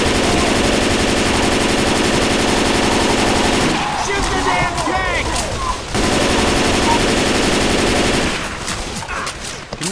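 Sustained automatic gunfire from a video game rattles loudly and almost without pause, breaking off briefly around the middle before resuming, with voices faintly mixed in.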